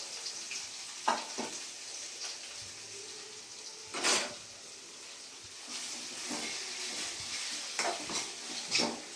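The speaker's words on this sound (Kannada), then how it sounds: "ಈರುಳ್ಳಿ ಚೆನ್ನಾಗಿ ಫ್ರೈ ಆಗಲಿ." Onion and coriander leaves frying in oil in a pan, a constant sizzle broken by several scraping stirs of a spatula, close and with no talk.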